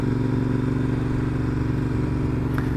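A Royal Enfield Interceptor 650 motorcycle on the move gives a steady, loud, low engine drone with a continuous throb and some wind rush, unbroken for the whole stretch and with no voices.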